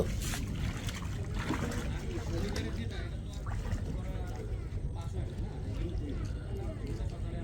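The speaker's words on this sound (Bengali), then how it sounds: "পানির শব্দ" Water laps and sloshes continuously at the bank of the Kirtankhola river near Charbaria, Barishal, where boats of the Bede boat people are moored, a steady dense wash of splashing close by with no voices.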